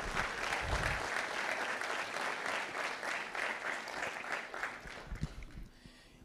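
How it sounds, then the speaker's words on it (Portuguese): Church congregation applauding during a sermon, a steady crowd clapping that holds for several seconds and tapers off near the end, with no talk over it. "Aplauda Jesus se você crê nisso."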